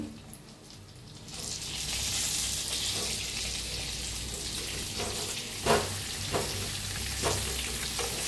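Bitter gourd with turmeric and red chili powder sizzles and is stirred in a frying pan, a continuous loud frying hiss with a few sharper scrapes of the spoon, close by and without speech.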